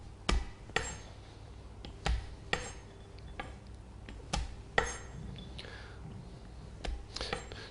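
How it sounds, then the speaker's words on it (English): A knife tapped down onto nuts on a chopping board to gently crush them, giving about ten sharp, close knocks spaced unevenly over several seconds, with a faint voice in the background. "going to lightly give them a tap on the board with a knife, just to gently crush them down"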